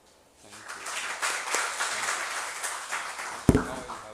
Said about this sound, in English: I think that deserves an applaud